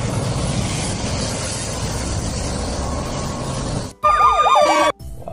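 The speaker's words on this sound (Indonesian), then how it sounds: "kita menemukan mobil ambulans" Loud, steady vehicle noise gives way near the end to a brief, wailing ambulance siren sweeping rapidly up and down for about a second.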